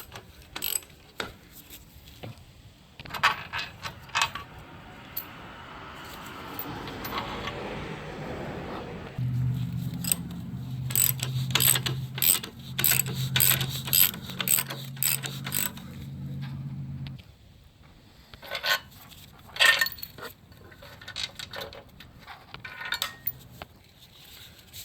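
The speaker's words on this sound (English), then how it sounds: "we're just going to start taking these bolts out" Ratchet wrench clicking in short, uneven bursts while backing out engine mount bolts on a 2013 Dodge Dart 1.4L, with a steady low hum through the middle stretch and scattered metallic clatter close by.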